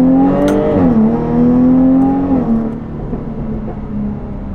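Jaguar F-Type V6 accelerating on a road, the engine note rising loudly, dipping at a gear change, climbing again, then easing off into a quieter cruise.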